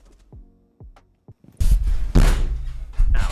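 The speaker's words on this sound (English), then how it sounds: "Actually really hurt my hand and didn't make as loud of a bang as I thought." A hand slams down hard on a surface during a Rainbow Six Siege session: a dull, heavy thump lands mid-clip and is followed by a second loud impact, with a few soft taps and knocks beforehand.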